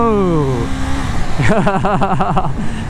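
A KTM 890 Duke R motorcycle engine revs hard in second gear during a wheelie, its pitch sweeping down and then pulsing in rapid rising and falling surges, loud and close, with a voice talking over the start.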